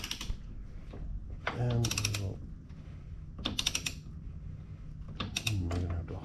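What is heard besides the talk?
torque wrench tightening rear axle nut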